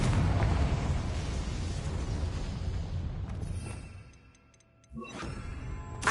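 A Confringo blasting spell in the Hogwarts Legacy video game: a loud, dense roaring blast that fades away, then a sharp crack and renewed rumble with ringing, glittering tones.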